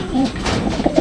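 A homing pigeon gives a short, soft cooing call close by, a few low throaty notes with no other voices.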